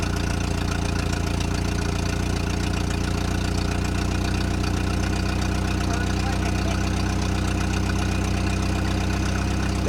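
An old Ford Fiesta engine, just started after sitting for years, holds a steady fast idle, loud and close, with a continuous low rumble throughout.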